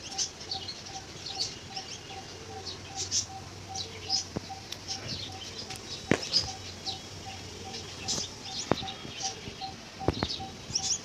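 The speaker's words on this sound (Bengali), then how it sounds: "সকাল সকাল পাখির ডাক" Morning birds call in a village garden with squash plants and flowering shrubs, a steady scatter of faint chirps and tweets over quiet outdoor ambience, with no talk.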